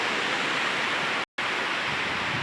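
Big waves rolling into a bay at Sur, Biwok in bad weather, a steady broadband roar of surf and wind, loud and constant with a brief dropout midway.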